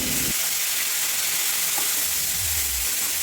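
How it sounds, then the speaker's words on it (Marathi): Dill greens being tempered with green chili and garlic in hot oil give a steady, bright frying sizzle that runs through the whole stretch with no one talking. "भाजीला मी आता इथे फोडणी देत होती एकदम सिंपल आणि साधी केली होती मिरची आणि आपला लसूणचा फोडणी दिलेली होती"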